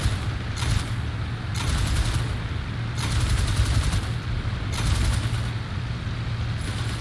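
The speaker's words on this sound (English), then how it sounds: "the observer is shooting, he's dropping loads of bombs" In the Il-2 flight game, an aircraft's rear gunner fires while bombs drop. Rapid machine-gun bursts and dull booms repeat over a constant loud engine drone.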